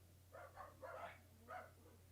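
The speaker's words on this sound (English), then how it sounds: "Sorry for the dogs barking," Several dogs bark in a short burst of four or five quick, yappy barks at moderate distance, over a steady low electrical hum.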